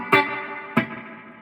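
Electric guitar played through a Solid Gold FX Surf Rider III spring reverb pedal set full, two sharp strummed chords half a second apart, each blooming into a long, shimmering spring reverb decay that fills the gaps, with no voices.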